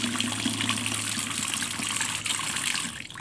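Water runs steadily from a bathroom sink tap, a constant close rushing gush that holds at even volume throughout, with no voices.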